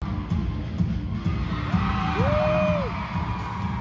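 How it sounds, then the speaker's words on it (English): An anime convention audience cheers for Inumaki from Jujutsu Kaisen, a sustained crowd roar of moderate loudness lasting about four seconds, with a few whoops rising above it. "His one single cheer had a duration of 4 seconds"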